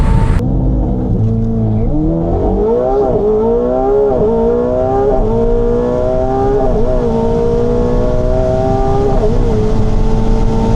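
A McLaren 750S tuned to 1,000 hp and a Tesla Plaid accelerate hard in a quarter-mile drag race, with a loud, close engine howl that climbs through repeated upshifts and dips between gears. The roar holds steady from start to finish.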